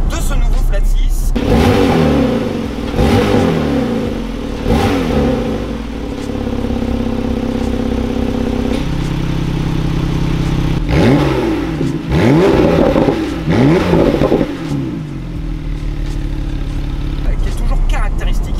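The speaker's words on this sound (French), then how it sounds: "il gagne de série l'échappement sport. Pour pouvoir profiter de la sonorité de ce nouveau Flat 6." A Porsche 911 991.2 Targa 4 GTS with its flat-six and standard sport exhaust revs loudly several times, rising and falling sweeps repeating over a steady idle, close and dominant throughout.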